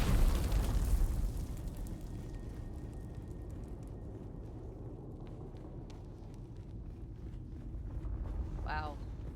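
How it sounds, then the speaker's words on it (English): Explosions from bandit bombs in the video game Dune: Awakening, a loud blast at the start rolling into a long low rumble, with a second swell near the end; a voice talks over it. "Bombs, look out."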